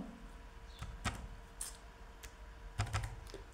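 Keys clack on a computer keyboard as a time is entered into an Excel spreadsheet. The taps are soft and scattered, a few quick presses with short gaps between them.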